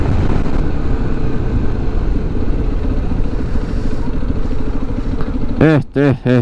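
Motorcycle engine droning steadily while riding through fog and rain, loud and continuous, with a brief sputtering burst near the end.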